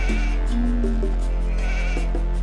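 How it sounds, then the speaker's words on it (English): Sheep in the Age of Empires video game give several short, distinct bleats, each brief and clear, over a steady low hum of game ambience. "We have some more sheep here."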